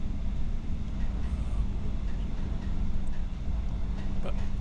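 A steady, dense low rumble of a moving passenger train heard from inside the carriage, continuous with no talking, on a rainy day past flooded fields.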